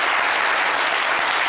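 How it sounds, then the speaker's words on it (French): A studio audience on a talk show claps loudly and continuously, a thick, even burst of applause close up with no break. "Applaudissez pour ce reine."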